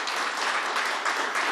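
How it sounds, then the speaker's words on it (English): An audience applauds at a public event held by Governor Hochul on the Interborough Express, a dense, steady burst of many hands clapping for a brief stretch. "if we could give a round of applause for that work"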